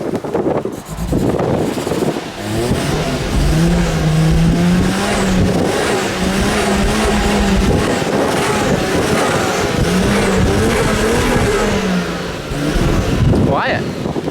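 A Toyota 2JZ-GTE VVTi engine for a MKIV Supra, running rough with a suspected dirty fuel filter, revs and holds a loud, steady drone close by, rising and falling in pitch with a few blips, alongside background noise.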